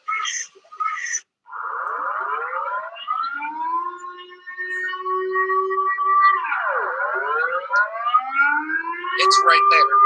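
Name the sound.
civil defense siren sounding in Amsterdam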